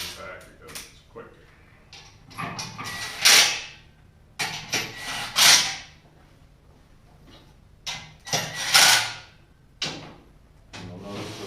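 An impact wrench tightens the clamps on a No-Mar CH100 HD tire changer in several short, loud rattling bursts, separated by quieter mechanical clanks and handling noises.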